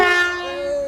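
A passenger train sounds its horn at a station stop, a loud sustained tonal blast that holds steady and then eases slightly in pitch as it fades.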